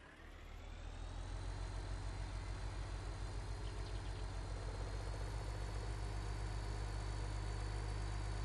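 In Farming Simulator 19, a JCB vehicle's engine runs at a steady idle after starting up, giving a loud continuous heavy drone with a constant pitch and no talking.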